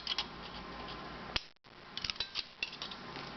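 Scissors cutting an aluminum soda can for a folded ornament: irregular crisp snips and metallic crunches close by, with a brief pause in the middle.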